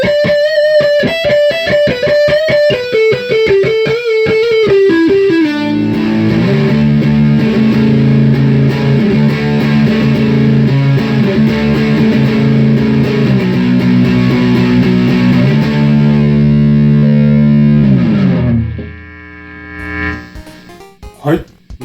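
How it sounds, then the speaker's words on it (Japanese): A distorted Gibson Custom Shop Les Paul Oxblood electric guitar plays a single-note lead line, then sustained, thick overdriven chords ring loudly for several seconds before fading out near the end, with no talking. "まあ、歪みはこんな感じです。"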